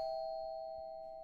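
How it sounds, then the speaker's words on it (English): A doorbell rings in the horror video game Fears to Fathom: Home Alone, a single clean electronic chime that holds steady and fades slowly, heard alone against a quiet room. "I'm not answering no doorbell."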